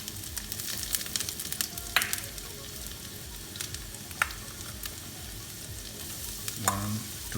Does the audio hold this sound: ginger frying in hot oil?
yes